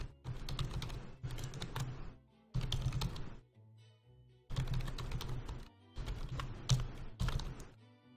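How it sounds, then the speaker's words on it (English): Fingers type out an email address on a computer keyboard in bursts of rapid, close clicking keystrokes, broken by short pauses between runs. "I'm actually going to type it,"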